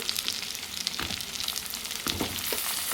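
Onions and potatoes fry in hot oil with a steady crackling sizzle, punctuated by a few dull scraping knocks as the pieces are moved about.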